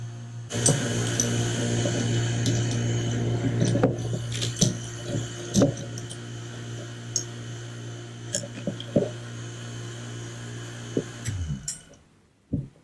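A vacuum pump pulls air from a bagged carbon fiber layup, running as a steady low hum with a rising whine, interrupted by crinkling plastic and sharp clicks and knocks before cutting off near the end.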